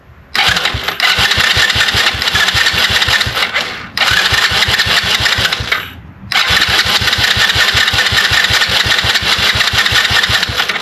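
A 125cc Blazer ATV engine cranks and catches, then settles into a loud, steady idle with a fast, even thumping beat. The engine note drops off briefly twice before running on, close up, with no talking.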